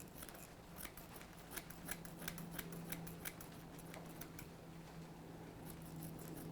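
Scissors snip repeatedly at the fur under an English Springer Spaniel's ear during a show grooming trim, quick close clicks in irregular bursts over a low steady hum.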